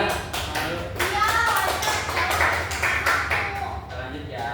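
Students in an Indonesian classroom clapping their hands in a quick rhythmic pattern, bursts of sharp claps close by, mixed with voices of the teacher and children.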